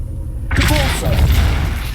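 A Depulso spell cast in Hogwarts Legacy, a sudden loud whooshing burst that swells into a sustained rumbling roar, with a voice calling out over it.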